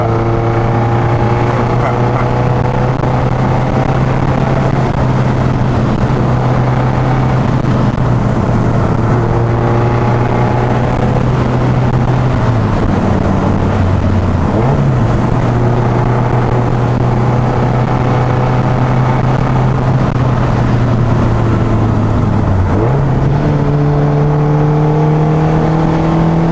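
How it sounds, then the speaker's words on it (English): A 1974 BMW 2002 engine revving hard while driving, a loud, steady drone with the pitch dipping at gear changes and climbing again, close and continuous with no talk. "You just want to get it up in the RPMs, up in the rev bands, keep it going, and just put your foot down and take the turns"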